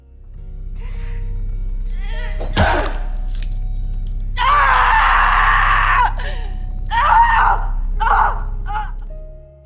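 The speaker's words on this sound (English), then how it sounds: "Her mother and sister hear her scream." A woman screams in a horror film after cutting off her toes, with a sharp impact, then loud anguished cries and wails in several bursts over a low drone.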